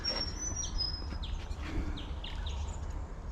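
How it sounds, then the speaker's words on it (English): Small birds chirp and tweet faintly in a wetland bird garden, scattered short calls and a thin whistle over a low steady background rumble. "You can hear the birds in the background."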